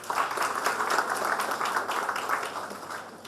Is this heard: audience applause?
yes